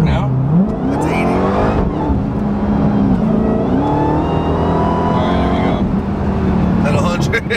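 A Dodge Demon roars hard off the line at a drag race, tires spinning and engine pitch climbing through repeated gear pulls, loud and close, with brief breaks between surges.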